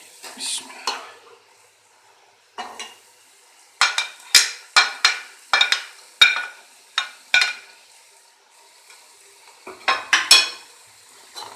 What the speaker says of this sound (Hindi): उसके बाद ये आलू प्याज शामिल करने के बाद इनको 2 मिनट तक भूनना है